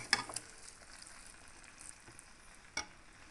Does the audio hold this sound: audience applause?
no